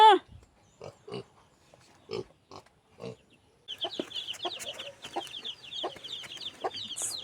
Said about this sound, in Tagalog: Newborn chicks.